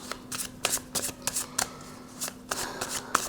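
Tarot cards shuffled by hand for a three-card draw, heard as a quick series of soft, crisp riffling and slapping bursts, close and quiet, with no talking.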